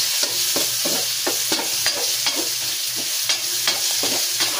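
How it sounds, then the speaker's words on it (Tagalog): Tomato sautéing for chicken tinola, a close, loud sizzle broken by repeated rhythmic scrapes and stirs of a spatula in the pan. "natin lang gisa-gisahin lang hanggang sa lumabas yung kanyang mga aromatic"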